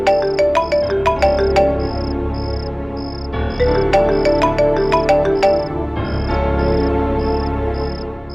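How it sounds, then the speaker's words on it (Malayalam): A mobile phone ringtone plays in a TV serial scene: a bright chiming melody over a steady pulsing beep that repeats evenly for several seconds, loud and close, with no talking. "സുമേ ആ ഫോണിങ് എടുത്തു കൊടുക്കും"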